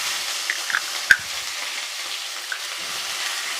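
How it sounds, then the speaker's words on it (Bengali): Onion, green chili paste and ginger-garlic paste with whole garam masala hiss in hot oil in a pan for egg korma, a steady close sizzle with soft stirring and one sharp clink of the spoon. "দিয়ে কিছুক্ষণ আমি এটা নাড়তে থাকবো হালকা ভাজা ভাজা হওয়ার জন্য"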